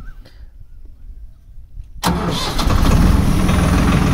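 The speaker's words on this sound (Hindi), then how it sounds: "भाई अभी आपको ये ट्रैक्टर स्टार्ट करके दिखाएंगे" A Swaraj 969 FE tractor's big turbo diesel engine cranks and catches, then settles into a loud steady idle with a high turbo whistle rising above the rumble.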